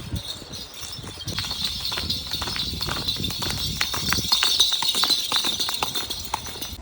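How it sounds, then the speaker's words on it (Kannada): Horse hooves clip-clopping as a rider is carried along near a hill viewpoint, a quick irregular run of close, sharp hoof strikes over a steady outdoor background, with faint voices. "ಇಷ್ಟೊತ್ತರೆಗೂ ಇವನು ಹಾರ್ಸ್ ರೈಡ್ ಮಾಡ್ದ"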